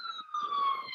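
Police siren wailing along a Washington DC street, a steady tonal whine that dips slightly in pitch, fairly loud and clear with faint traffic rumble beneath.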